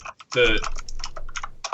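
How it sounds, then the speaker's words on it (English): Loud, rapid clacking of a mechanical computer keyboard, bursts of keystrokes close to the microphone, with a voice talking over part of it. "Who the hell's typing so loud?"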